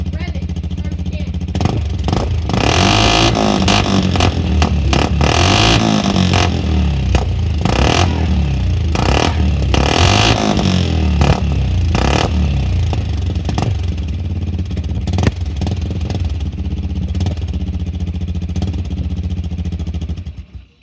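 An engine cold-starts and revs hard, blowing a lot of smoke, with a sustained loud roar and repeated throttle blips over about twenty seconds, while people talk faintly underneath.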